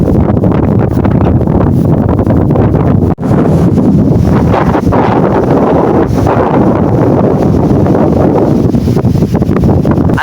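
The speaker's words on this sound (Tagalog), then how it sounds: "Ang lakas guys ng hangin." Strong wind on a hilltop at Grace Hill in Binangonan, Rizal, a loud continuous roar buffeting the microphone with gusty surges, a brief dropout, and no talk.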